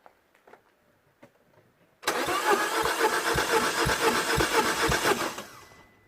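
Citroën DS3 engine cranking on the starter during a compression test after a cylinder head replacement, with a few faint clicks before a loud, steady rhythmic churning that runs for about three seconds and then stops.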